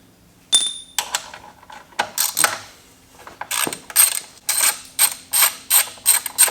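A socket ratchet on an Allen key works bolts loose on a Honda Goldwing GL1800. It gives close, loud, repeated metallic clicking strokes in quick rhythmic bursts, with a pause between runs.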